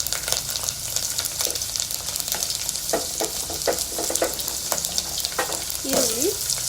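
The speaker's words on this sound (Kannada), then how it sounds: "ಬೆಳ್ಳುಳ್ಳಿ ಹಾಕ್ಕೊಳ್ತಾ ಇದ್ದೀನಿ. ಅದು ಚೆನ್ನಾಗಿ ಫ್ರೈ ಆಗಬೇಕು" Garlic fries in a pan with a dense, continuous sizzle close by, broken by intermittent clicks from stirring and a brief squeaky tone near the end.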